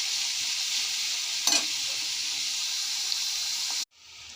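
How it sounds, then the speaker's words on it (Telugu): Onions frying in a kadai give a steady close sizzle throughout, with one brief louder scrape of stirring near the middle before the sizzle suddenly drops away. "ఇప్పుడు ఆనియన్స్ వేసుకుంటున్నాం అదే కడాయిలో. ఉల్లిపాయలు బాగా వేగేదాకా వేపుకోవాలి."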